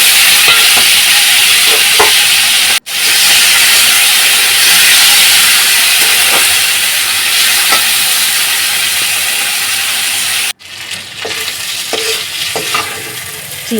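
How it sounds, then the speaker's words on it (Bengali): Shrimp frying in oil in a hot wok, a loud, steady close-up sizzle and hiss with occasional stirring scrapes, broken by two brief sharp cuts. "তেল দিয়ে চিংড়িটা ভেজে নেব।"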